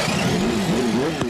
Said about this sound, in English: The engines come to life.